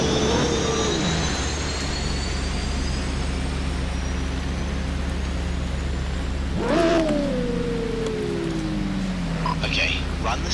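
A V-22 Osprey tiltrotor in a racing video game holds a steady, loud engine drone throughout, with a rising whine and sweeping pitch change partway in, alongside a player talking over it.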